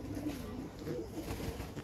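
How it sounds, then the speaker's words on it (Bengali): A female military breed pigeon coos softly in low, throaty, rolling notes, close by and continuous over the short stretch. "এটা একটা মাদি কবুতর"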